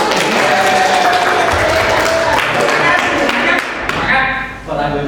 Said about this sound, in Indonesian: Beri tepuk tangan untuk Kak